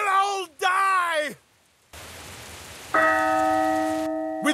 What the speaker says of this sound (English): The bells toll a portent of fire!